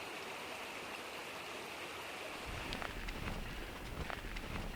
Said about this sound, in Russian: черно-желтая вода цвета торфяных болот, вскипающая между скал